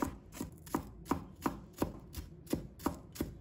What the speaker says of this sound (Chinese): 把葱白和葱绿分开切，把葱白切成小粒。